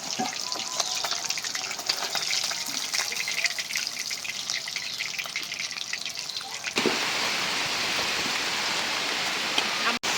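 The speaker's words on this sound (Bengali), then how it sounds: "রান্না করতে করতে একদম ঝড় বৃষ্টি শুরু হয়ে গেল" Heavy storm rain pouring down, first heard as scattered dripping and patter with crackle mixed in, then abruptly swelling into a loud, steady downpour hiss for the last few seconds, with no clear speech.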